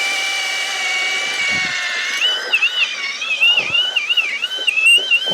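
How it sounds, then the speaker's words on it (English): A powerful drill with a 25mm auger bit bores into timber while building a garden room, giving a steady high whine that starts to waver and labour as the bit bites deeper. "drill 25mm speed bit in there"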